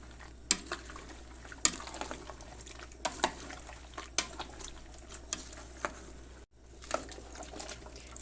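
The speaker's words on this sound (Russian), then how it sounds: "Салатик булькает." A zucchini and red bell pepper vegetable salad bubbles in a pot on the stove, with a steady simmer and sharp clinks of a spoon against the pot at irregular intervals.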